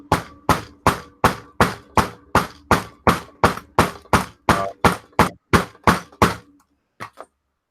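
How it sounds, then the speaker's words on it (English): A hammer pounds on a metal socket in about sixteen steady, evenly spaced blows, loud and close, followed by a short pause and two lighter final taps. "Maybe use the bigger hammer on it."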